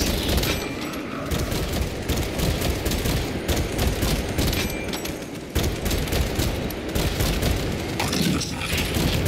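Rapid, continuous gunfire from a bolt pistol and other weapons in a video game battle, dense bursts with heavy booms rolling over each other for the whole stretch, loud and unbroken.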